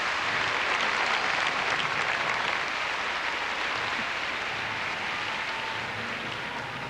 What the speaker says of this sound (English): you can hear the calls and applause from her